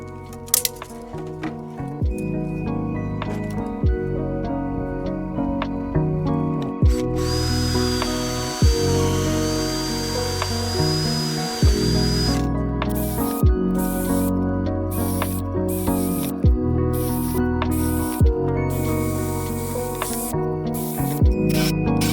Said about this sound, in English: With all the holes drilled,